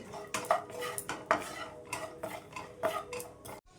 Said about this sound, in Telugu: కొంచెం డ్రై ఫ్రూట్స్ తీసుకొని ఇదైతే కొంచెం గోల్డ్ కలర్ వచ్చేంత వరకు వేయించుకోవాలి